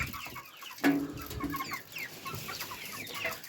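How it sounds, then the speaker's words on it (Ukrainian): Domestic chicken clucking during a farmyard weighing session, a sharp squawk near the start followed by soft, irregular clucks and rustling close by. "Курочка."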